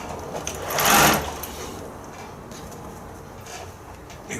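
Sewing machine stitching fabric, a close, steady motor whir with a louder surge near the start before it settles into an even hum.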